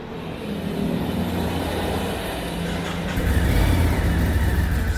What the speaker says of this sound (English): Now we ride the all-new Ducati Scrambler in the motherland.